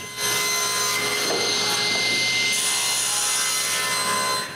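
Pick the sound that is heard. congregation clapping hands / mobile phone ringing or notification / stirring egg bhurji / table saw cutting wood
table saw cutting wood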